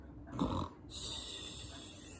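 A voice imitates a snore during a children's story read aloud: one breathy, rasping snore-like snort, fairly quiet and close, followed by a softer airy tail.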